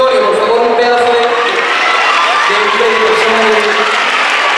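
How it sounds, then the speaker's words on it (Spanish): Audience applauding and cheering at an outdoor fair concert, a dense, loud, continuous roar of clapping mixed with shouts and whistles from a large crowd, with voices calling out. "Pero pido un fuerte aplauso, ¿vale?"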